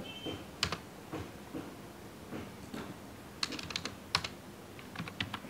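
Fingers typing C code on a computer keyboard, quiet scattered keystrokes and short clustered bursts of clicks, close and soft, with no talking.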